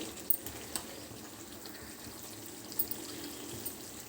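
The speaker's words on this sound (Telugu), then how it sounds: "ఇప్పుడు కొంచెం మనం చింతపండు పులుసు పోసుకుందాం" Tamarind juice poured into a pan of stuffed brinjal curry gives a soft, close, steady liquid trickle with a few faint clinks, no talk over it.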